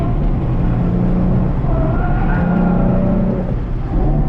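A modified car laps the race track at Lime Rock, its engine a loud, constant close-up drone heard from inside the car, with the pitch rising and falling gently as it drives.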